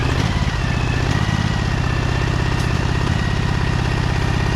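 Husqvarna 2346XLS hydrostatic lawn tractor running steadily with the PTO engaged, a loud, close, continuous engine drone with a throbbing low rumble throughout.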